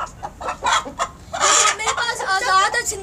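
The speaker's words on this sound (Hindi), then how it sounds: "सबसे बड़ा मुर्गा मेरा यही है" A large Aseel rooster of the Java type, with a glossy, shiny coat, clucks and calls in loud, close, choppy bursts, rising into a longer, strained call in the second half.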